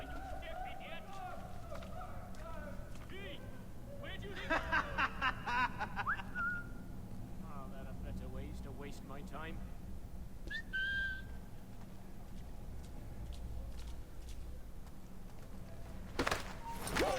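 Whistling in Assassin's Creed III Remastered: short tonal whistles rise out of steady game ambience and footsteps, with a voice talking now and then.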